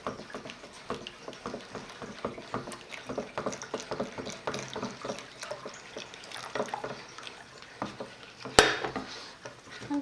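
Sugar syrup, cooled to about 50–60 degrees, being slowly stirred into a steamed white rice cake batter in a home kitchen: a steady run of soft clinking and scraping strokes against the bowl, close and fairly quiet, with one sharper knock near the end.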